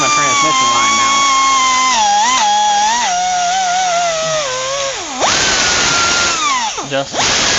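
A power drill whines near a Dodge transmission line, its pitch sliding down under load and briefly rising again, loud and close, with people talking over it.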